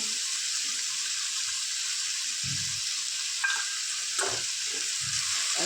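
Turmeric, dried chillies and spices frying in a pan for masala Maggi, a steady close sizzle throughout with a couple of sharper stirring clicks, no talk.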